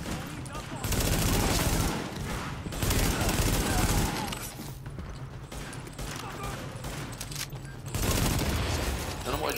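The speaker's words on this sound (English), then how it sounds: "The escort party's taking heavy fire from the roof" Heavy gunfire in Tom Clancy's The Division, dense bursts of rapid automatic shots and echoing volleys in loud waves with brief lulls, with a voice speaking beneath the shooting.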